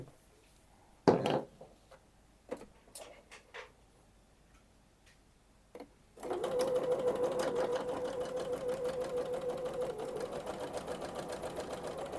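A sewing machine stitching a dress pocket seam starts after a few scattered handling clicks and bumps, then runs steadily and close for several seconds with a fast, even mechanical whir.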